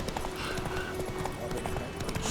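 Horse hooves clip-clop at a steady trot across ground in The Witcher 3, a continuous rhythmic clatter running under game ambience and a talking voice.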